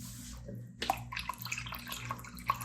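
Water trickled from a tap into a Suprep mixing cup up to the fill line, a short faint splashing pour with a few small drips and clinks.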